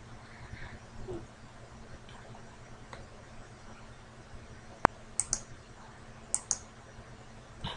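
A computer mouse clicks a handful of times, sharp isolated clicks spaced a second or so apart over a quiet steady background hum, close by and with no talk.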